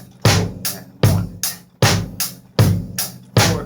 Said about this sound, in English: So the first one, quarter notes on the bass drum.